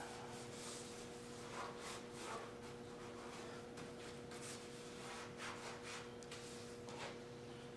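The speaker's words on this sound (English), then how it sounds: "So once again, we are stripping a little Philco 80" Old finish being stripped from a Philco 80 radio cabinet, a steady scrubbing and rubbing texture in repeated strokes, close and continuous over a faint constant hum, with no talking.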